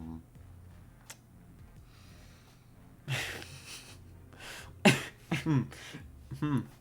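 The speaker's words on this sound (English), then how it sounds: "sorry, I just actually coughed." A man playing Marvel Snap lets out a sharp cough close to the microphone after a quiet stretch, followed by a few short throaty bursts and voiced breaths.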